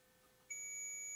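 A faint steady electronic tone inside the Twin City Opera House catwalk, then a high, thin continuous beep switches on and holds.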